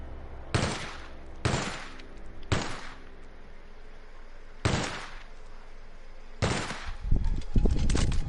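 A light machine gun fires in a console shooter game in five sharp, loud bursts separated by short pauses, the last burst trailing into scattered shots and clatter.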